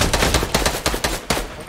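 Sniper shots fire in a video game shooter, five or six sharp, loud reports coming in an uneven rapid string over under two seconds, with no talk.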